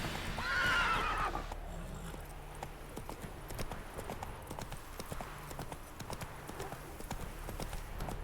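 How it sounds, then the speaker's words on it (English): Roach, the horse in the video game The Witcher 3, whinnies and then gallops with a continuous rhythmic clip-clop of hooves at close range, with faint voices underneath. "Whoa there, Roach."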